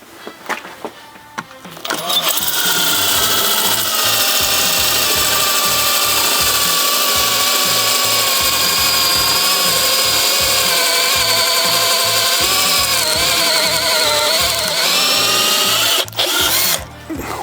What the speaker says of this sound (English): Carbide tip, hole saw, 1 inch.